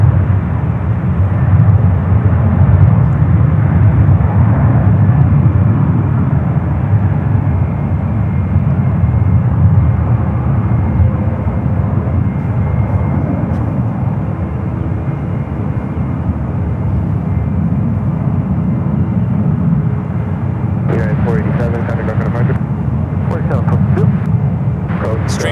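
Loud, steady roar of aircraft engines at San Francisco International Airport, a sustained jet rumble throughout with faint clicks near the end and no clear talking.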